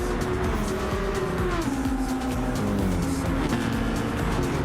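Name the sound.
BMW race car engine as driver lifts off throttle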